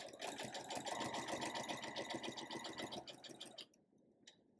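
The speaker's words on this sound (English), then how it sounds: "So let's go ahead and sew this together." Sewing machine stitching quilt fabric with quarter-inch seams, a steady rapid mechanical chatter running for about three and a half seconds before stopping abruptly, followed by a faint click.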